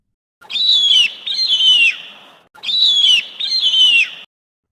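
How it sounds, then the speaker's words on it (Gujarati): Two identical pairs of high, clear whistled calls, each pair made of two drawn-out, descending notes, loud and close with short silent gaps between, are given as an eagle's cry. "આ છે ગરુડ. તેને અંગ્રેજીમાં ઈગલ કહે છે. ગરુડ કેવું બોલે?"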